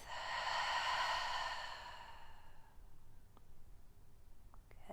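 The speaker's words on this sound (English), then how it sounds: "Exhale through the mouth." A long, audible exhale through the mouth during an at-home yoga breathing practice, a breathy, airy sigh that swells and then fades over a couple of seconds, followed by quiet with faint clicks.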